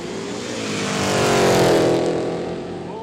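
A Commodore race car at a quick street drag event roars past with a loud rising and falling engine note, peaking mid-pass before fading as it moves away.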